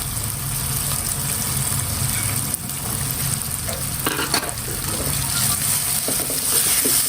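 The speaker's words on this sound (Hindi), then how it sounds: "अब हम इसमें हरी मिर्चें कटी हुई ऐड करेंगे।" Chopped green chillies frying with softened tomatoes in a pot for chicken biryani, a steady loud sizzle throughout with occasional stirring scrapes.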